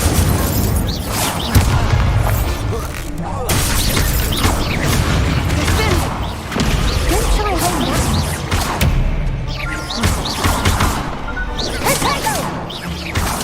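Incendio fire spell cast in Hogwarts Legacy: repeated whooshing bursts and booming impacts amid dense, continuous combat noise, with a player's voice speaking over it.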